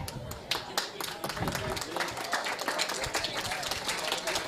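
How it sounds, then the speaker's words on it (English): Lively clapping from party guests at a 1920s dress-up party after a pianist's performance, dense overlapping claps close by with a voice speaking over the applause. "Give him a big round of applause."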